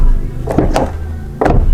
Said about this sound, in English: Can we just admire the sound of the door?